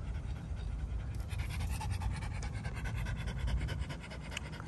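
A dog pants quickly and steadily in rapid rhythmic breaths, close and fairly loud over a low background rumble, with no talking.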